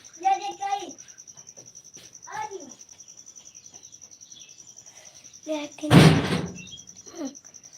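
A house door is banged on once, a loud, sharp broadband thump standing out near the middle, with people talking before and after it and a steady high electronic whine throughout.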